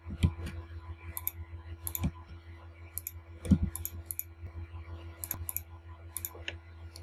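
Sharp, quiet mouse or keyboard clicks come from someone working at a computer, arriving as isolated taps and small irregular bursts over a faint steady hum in a quiet room.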